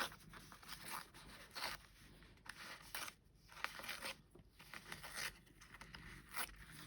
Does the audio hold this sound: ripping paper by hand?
yes